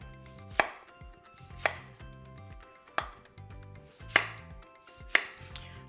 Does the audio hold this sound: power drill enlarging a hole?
no